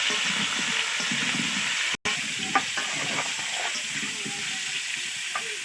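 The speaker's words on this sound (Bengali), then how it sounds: "একটু লবণ দিয়ে দেবো আলুর সাথে একটু হলুদ গুঁড়ো দিয়ে দেবো আলুটাকে লাল লাল করে একটু ভেজে নামিয়ে নিতে হবে" Potato pieces frying with salt and turmeric in oil, a loud continuous sizzle with scattered stirring taps and scrapes and one brief dropout partway through, no talk over it.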